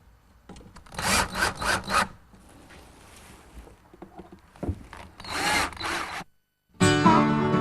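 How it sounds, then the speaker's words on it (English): Screws being driven into wood with a power drill to fasten the front panel of a garage workshop build, coming as several loud, close bursts of whirring drive with short pauses between them. "now I'm using some 1-inch screws to attach the front."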